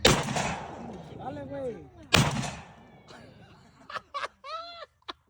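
Gunshots at an outdoor shooting range: two loud, sharp blasts about two seconds apart, each followed by a lingering boom, with people laughing and talking after the shots.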